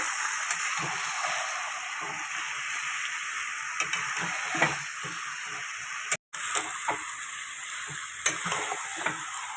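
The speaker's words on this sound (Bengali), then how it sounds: "মাটনটা দিয়ে দিলাম কড়াইতে ভালো করে কষাবো এখন মাটন যত বেশি কষাবো ততই ভালো" Mutton sautéed in a wok for a home festive meal, a steady soft sizzle with occasional scrapes and stirring clicks, fairly quiet and close, with one brief dropout partway through.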